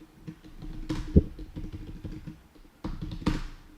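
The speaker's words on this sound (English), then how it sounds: "I'm gonna type it down here." A discount code being typed on a computer keyboard: a run of quick, close key taps at moderate loudness over a low background hum, with a couple of sharper clacks standing out and a short pause partway through.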